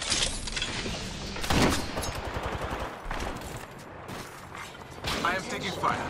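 Bursts of gunfire in a video game crack and rattle in irregular volleys at moderate loudness. Voices talk over and between the shots.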